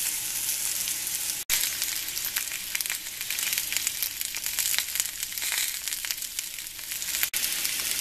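Thinly sliced potatoes fry in a pan with a loud, dense, continuous sizzle close by, broken by two brief sharp clicks and the rustle of stirring.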